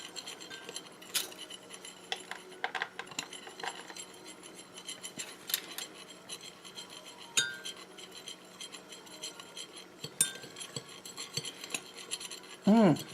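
Light clinks and scrapes of a utensil stirring a clove gel room freshener mixture in a glass, quiet and irregular with occasional sharper taps.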